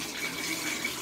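Hot tap water runs steadily into a bath being filled, a continuous close rushing splash with no talk.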